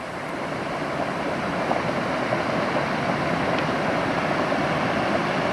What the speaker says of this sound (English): Listen, you could hear this one bubbling.